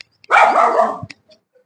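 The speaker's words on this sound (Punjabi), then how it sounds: "ਕਤੀੜ ਹੁਣ ਭੌਂਕੀ ਜਾਂਦਾ ਉਧਰ" One close, drawn-out dog bark or howl-like yelp, loud and alone, followed by quiet.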